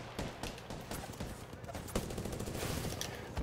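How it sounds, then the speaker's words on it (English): Rapid gunfire in the battle royale game Apex Legends, dense bursts of automatic shots crackling in quick succession, moderately close with a louder crack near the middle, with a voice speaking underneath. "I'm getting shot in the back"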